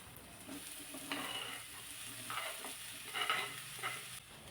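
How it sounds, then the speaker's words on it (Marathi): Chopped taro leaves stir-frying in a pan, giving a faint, steady sizzle broken by a few short bursts of stirring and scraping, heard close with no talk. "थोडंसं परतून घेतलं आणि लगेचच यामध्ये चिरून ठेवलेली अळूची पानं घालायची."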